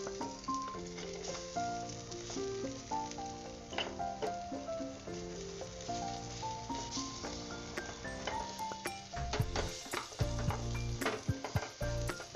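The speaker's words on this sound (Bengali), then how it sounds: "এক পিঠ ভাজা হয়ে গেছে, এবার আমি এগুলোকে উল্টে দিচ্ছি।" Banana flower and chana dal fritters sizzle in a shallow layer of oil as they are flipped, with a soft steady crackle, occasional spatula and pan clinks, and background music playing over it.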